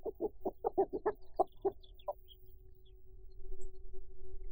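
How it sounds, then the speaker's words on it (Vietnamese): A chicken clucks in a quick run of about nine sharp, close clucks, then goes quiet against a faint steady hum. "Rồi, gà của anh đây."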